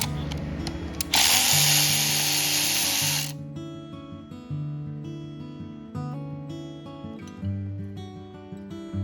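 Power tool whining steadily as it removes the valve cover from a Wisconsin THD engine, a loud burst at first, then shorter on-off runs close by, with no talk.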